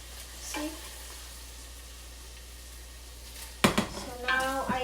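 Beef pan frying in a pan for a stew gives a faint steady sizzle, with a light clink of a utensil and a short burst of stirring or pan noise near the end.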